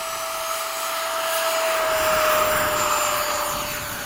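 MiG-21 jet on takeoff roll, a loud, sustained roaring engine with a steady whine that swells slightly in the middle and eases toward the end, no talk over it.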